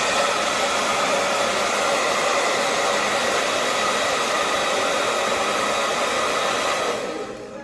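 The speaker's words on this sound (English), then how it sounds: "then I turn my blow dryer back on cold" Hair dryer running on the cold setting during a styling routine: a loud, steady, close-up rushing whoosh that holds for several seconds and then starts to fade at the end, with no talking.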